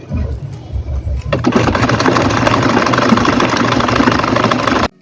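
Sewing machine stitching along one side of an Ashoka fabric bubu dress, starting after a quieter first second and then running loud, steady and continuous until it stops abruptly near the end.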